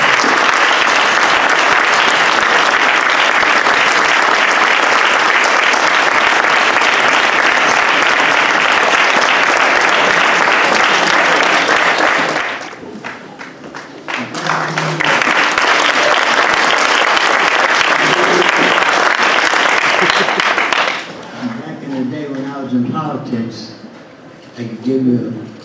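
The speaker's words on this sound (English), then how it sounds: "Can we please have a great applause for him?" Loud, sustained applause from a large crowd at a chamber of commerce community service awards ceremony fills most of the clip, briefly dipping midway, then fading as a voice begins speaking at the end.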